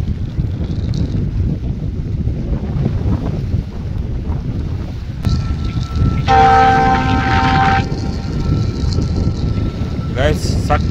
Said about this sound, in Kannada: ಟ್ರೈನ್ ಕೂಡ ಬರ್ತಾ ಇದೆ